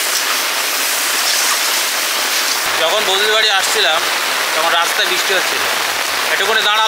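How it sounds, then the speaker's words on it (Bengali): Heavy rain pouring down, a loud continuous wash of drops on surfaces that fills the whole stretch, with a person talking over it partway through. "এখন পুরো ঝেড়ে বৃষ্টি হচ্ছে দেখো।"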